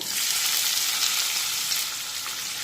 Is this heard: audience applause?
no